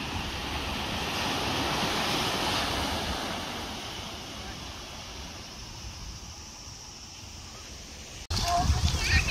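Sea waves wash steadily onto a beach in Japan, a broad continuous surf rush that swells and eases, ending in a louder burst of close wind and water noise.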